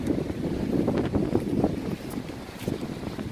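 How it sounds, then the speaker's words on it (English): Steady wind buffets the microphone with low rumbling gusts on cold, windy Indiana Dunes, continuous and fairly loud, with no voices. "But it's cold and it's windy."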